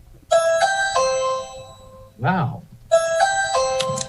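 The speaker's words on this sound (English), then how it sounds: "Sorry, that's my doorbell." A home doorbell chimes in two separate bursts of ringing tones, each about a second long, during a remote committee meeting, with a short spoken exclamation in the gap between them.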